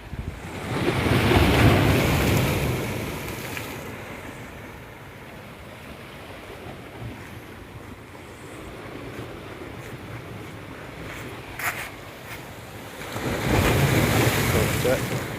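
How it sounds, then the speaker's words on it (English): Ocean waves wash in at Holetown Beach, St. James, Barbados, as broad surging rushes of surf that swell and fade, mixed with wind buffeting on the microphone. "This is the waves here, the wave action at Holetown Beach."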